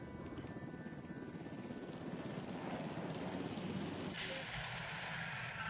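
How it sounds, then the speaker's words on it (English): A helicopter flying in the video game Jurassic World Evolution makes a continuous rotor and engine rumble at moderate distance. It is fairly quiet and stays steady throughout. "My ranger team's busy, so I'll send this helicopter."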